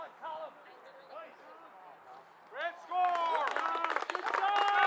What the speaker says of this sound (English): A lot of hometown applause here